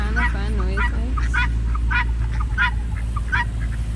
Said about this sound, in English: these are the guineas.